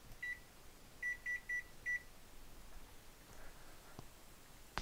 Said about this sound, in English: Let me set my timer for 10 minutes.